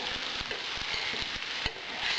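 Breadcrumbs made from dried, blender-ground bread fry in a pan, giving a steady close sizzle with soft scraping taps of stirring throughout.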